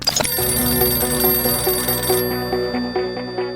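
A telephone rings loudly and close by, a continuous electronic ringtone with a regular repeating pulse that carries on alone with no talk.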